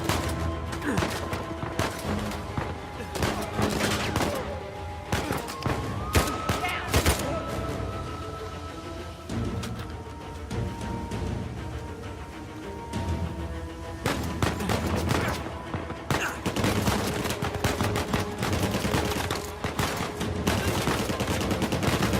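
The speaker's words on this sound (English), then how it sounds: "using the machine gun and the pistol for this section" Machine gun bursts and pistol shots from the video game Uncharted 4 crackle almost nonstop, dense sharp reports in clusters with brief lulls, loud and close over layered game music and ambience.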